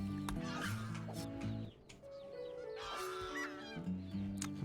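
Geese honking in RimWorld, with repeated nasal honks and clucks over a piano melody, fairly quiet and intermittent, some calls overlapping the music.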